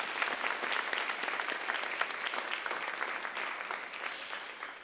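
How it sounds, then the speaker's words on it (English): Applause at an alumni awards ceremony for the catering and event staff, a sustained even clapping from a sizeable audience heard at moderate distance, softening near the end. "if we could give a little applause to the catering staff and the event staff"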